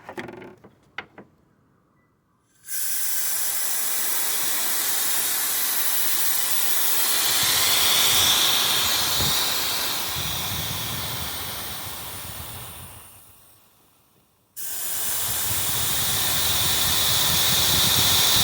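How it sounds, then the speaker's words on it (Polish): A loud, steady air hiss from a leaking intake gasket on a BMW E46 starts abruptly, swells, fades out after several seconds, then returns just as suddenly, close and continuous with faint mechanical ticking. "Uszczelka tutaj jest taka z tyłu i właśnie nią syczy."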